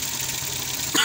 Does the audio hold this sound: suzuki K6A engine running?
yes